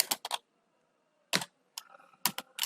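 Typing on a computer keyboard into a web browser: a few quick clusters of sharp, close key clicks separated by short silences.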